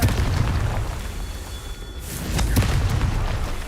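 A Confringo fire spell blasts in a Harry Potter video game, a loud booming explosion with a sharp burst midway and a rumbling low tail.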